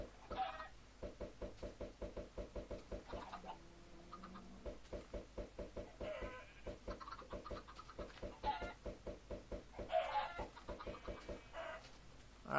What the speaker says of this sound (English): we got some chickens here